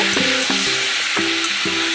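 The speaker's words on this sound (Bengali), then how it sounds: "এবার সামান্য জল দিয়ে আরেকটু কষিয়ে নেব" Rohu fish and pointed gourd curry sautéing in a pan with a little water, a steady loud sizzle broken by rhythmic scraping stirs, about four strokes.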